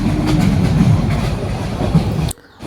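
A passenger train runs on its rails, heard from inside a carriage as a loud, steady rumble with rhythmic clatter, cut briefly near the end.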